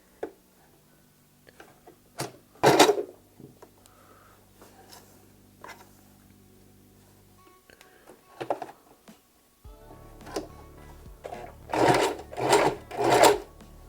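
A sewing machine stitching a wig track runs in short, sharp bursts separated by quiet gaps, nearby and clear, with a quicker cluster of stitches near the end.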